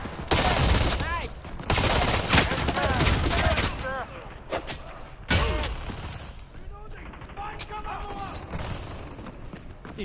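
Rapid bursts of gunfire and clattering shots fill a video game shooter firefight, loud and near, repeated across the scene with brief pauses, while players talk over the action.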